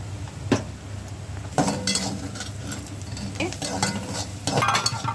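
Soaked moong dal with a little salt dry-roasting in a pan, heard as scraping stirs and clinks of a spoon against the metal over a low background hum, with a few louder scrapes.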